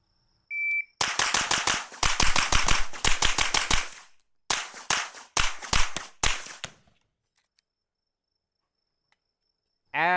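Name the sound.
JP-5 firing with HUXWRX Flow 9K Ti suppressor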